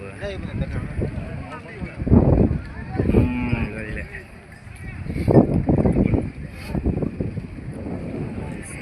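Cattle, bulls and calves moo repeatedly at close range at the Gadag livestock market, several loud bellowing calls rising over a busy, crowded background with people talking nearby.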